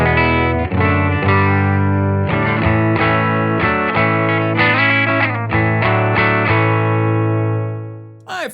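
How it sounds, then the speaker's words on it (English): A Clydesdale Warhorse electric guitar with Righteous Sound pickups plays through a Silktone amp, strummed chords ringing out in a steady, full, clean tone with sustained harmonics, several chord changes and a brief pick noise at the end. "I'm running into a Silktone amp. Silktone amp sounds like this."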